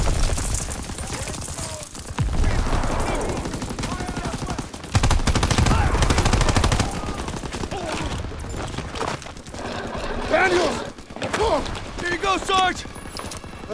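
Heavy gunfire rakes a squad in the World War II shooter Call of Duty: WWII, with dense, overlapping bursts and clatter through most of the stretch, close and loud, under shouting voices.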